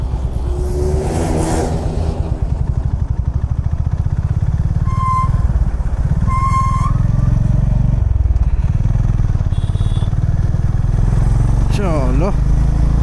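A motorcycle on a night ride during a Kolkata-to-Sikkim bike trip runs with a steady loud engine drone and wind rush, passing traffic horns sounding now and then, with a voice briefly over it.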